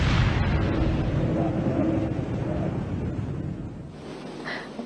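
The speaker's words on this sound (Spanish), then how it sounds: "Por seguridad son destruidos por control remoto." A deep, sustained roaring rumble of distant explosions and rocket noise fills the clip as the Space Shuttle Challenger's rocket boosters are destroyed by remote control, fading slightly toward the end.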